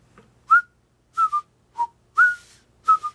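Someone whistles a short tune of clear, separate notes in a steady rhythm, close and alone with near silence between the notes.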